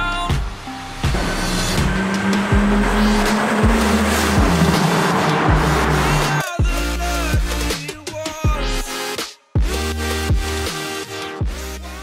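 A 1991 Toyota Supra Turbo drives past loudly, with engine revs rising and falling through gear changes over several passes. There are a few short gaps and sharp transients.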